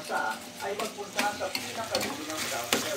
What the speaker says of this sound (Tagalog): pag medyo kumukulo na, medyo nagkukunti-mantika at nag-mix na yung butter